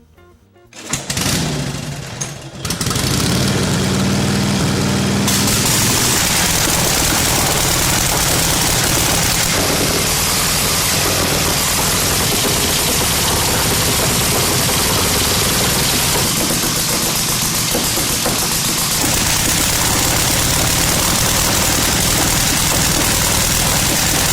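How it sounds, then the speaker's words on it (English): A 1936 Harley-Davidson motorcycle engine is cranked and fires up, a brief sputter giving way to a loud, steady, throbbing idle that runs close by for over twenty seconds. "He's going to crank up the 36 Harley"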